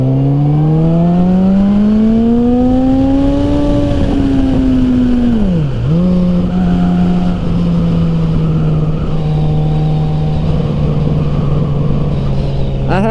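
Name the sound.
1000cc sport motorcycle accelerating on a straightaway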